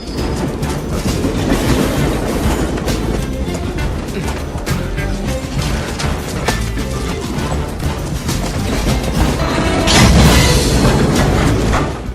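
Slow-moving freight trains rolling past in the 1998 film Steel, a loud, continuous rumbling clatter of wagons with clanks and scrapes throughout, swelling toward the end, with scattered background voices.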